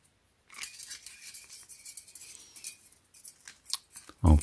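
Scissors snipping through thin nickel plate strip for 18650 battery connectors, a series of close, crisp metallic cuts with a small clink at the end.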